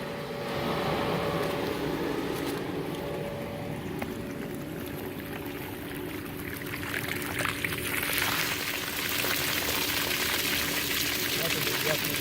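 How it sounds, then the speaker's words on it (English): An Intex pool pump runs on backwash, giving a steady mechanical hum beneath a continuous rush of gushing water, close and constant, with a person talking over it. "we're going to turn the pump on, and we'll watch the dirt fly"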